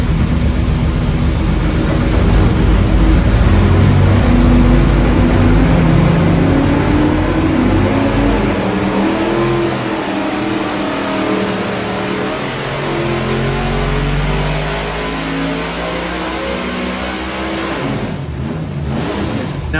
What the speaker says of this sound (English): Here's another look at the break-in dyno that we did naturally aspirated a couple of months ago.